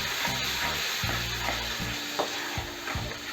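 Ground tomatoes fry and sizzle in a pan for a dry fish curry while a spoon stirs them, giving steady close sizzling broken by repeated scraping strokes.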